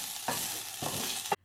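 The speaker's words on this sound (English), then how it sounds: "you can start slicing some ginger and frying them up with some virgin coconut oil" Ginger slices frying in virgin coconut oil, a close, steady sizzle with brief stirring scrapes, ending abruptly.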